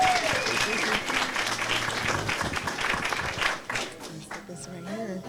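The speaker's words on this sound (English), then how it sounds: "One more round of applause." Audience applause at a summit held at The Roof Gallery, a dense sustained wash of clapping from a crowd that thins slightly near the end, with some voices mixed in.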